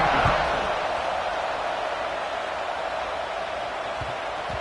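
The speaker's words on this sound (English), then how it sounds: "this crowd is buzzing after that last score" Steady, dense roar of a stadium crowd in a football video game right after a touchdown, a continuous wash of buzzing noise at even loudness for the whole stretch, with no distinct cheers standing out.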